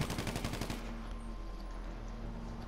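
Rapid automatic gunfire in GTA Online, a fast rattling burst of shots in the first second, then a lingering echoing tail and game ambience, fairly loud with no talking.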